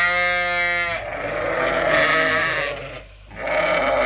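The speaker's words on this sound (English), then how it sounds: "So today we're taking a load of Suffolks over, and this is how we catch the lambs." Suffolk lambs bleat loudly and close by as they are caught and moved, with one long wavering call followed by overlapping bleats and brief scuffling.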